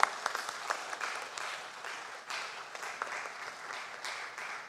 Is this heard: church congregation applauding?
yes